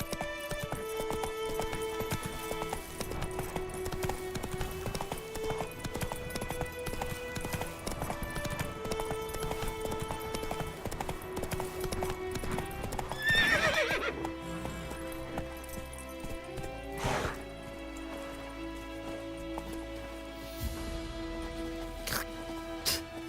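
In The Witcher 3, Roach the horse gallops with steady rhythmic clip-clop hoofbeats under sustained game music, with a brief louder swell partway through.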